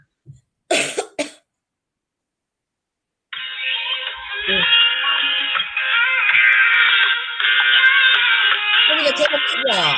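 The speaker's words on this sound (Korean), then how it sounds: "핸드폰을 꼽아서 노래 한번 들려봐 주시겠어요?" A song plays from a phone through a small wooden speaker and comes in clear and sustained after a few coughs and a pause, with a faint voice now and then.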